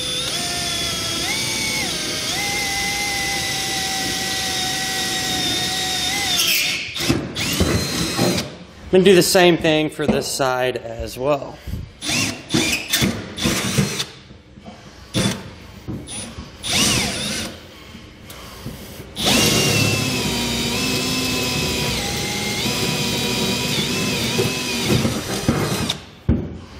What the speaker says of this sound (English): I can go ahead and drill through that cross member.